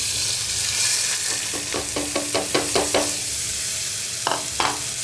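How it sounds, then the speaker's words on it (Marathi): Washed varai (barnyard millet) going into hot oil in a cooker, heard as a soft sizzle broken by a quick series of clicking stir strokes and then two more taps, with no talk. "तेल गरम झालं की आपण धुवून घेतलेली वरई याच्यामध्ये घालायची आहे"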